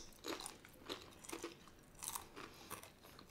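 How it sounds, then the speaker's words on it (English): Crunchy non-grain snack chips bitten and chewed up close, a series of crisp crunches repeating at a steady pace over a few seconds, with no voices. "More like a normal crunch."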